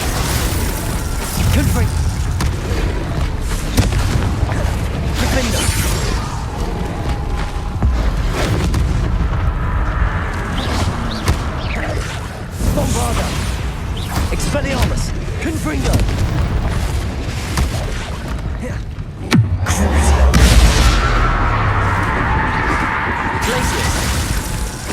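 Hogwarts Legacy spellcasting fills the fight with repeated deep booms and bursts, some with a cracking, shattering edge. A voice calls out spell incantations over the blasts throughout.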